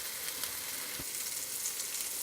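A burger frying in a pan makes a steady, close sizzle with a constant crackling hiss and a faint pop or two, with no one talking.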